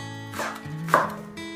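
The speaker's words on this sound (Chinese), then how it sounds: "切点葱花" A knife chops green onions on a cutting board, with a few quick close thuds and one sharper knock in the middle, heard alone without speech.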